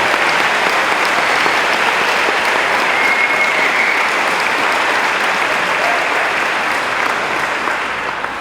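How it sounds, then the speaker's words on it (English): Graduation audience at the North Lakes Academy High School Class of 2024 ceremony applauding the students, a loud, dense, sustained wash of clapping from a large crowd, holding steady and easing slightly near the end. "Let's give them a round of applause for all their hard work and dedication."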